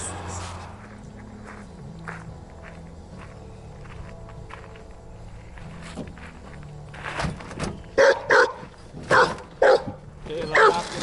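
Dogs bark in several short, loud bursts close by, following a stretch of quieter rumbling background with a few thumps and footsteps.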